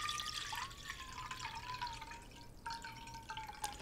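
Water being poured into a pot for vegan Korean pulled dough soup gives a soft continuous trickle and splash, close and quiet, with no talking.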